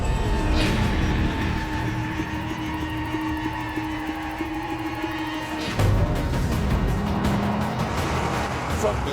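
A BMW 1 Series and a Volkswagen Golf GTI race each other, their engines droning loud and steady with a rising pitch. A sharper burst of engine noise comes as one car passes near, and a voice talks over the sound.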